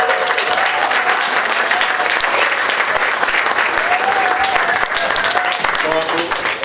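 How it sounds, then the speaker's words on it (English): Wedding guests clapping loudly and continuously for the father of the bride, a dense, even roar of applause with a few voices calling out beneath it. "Round of applause."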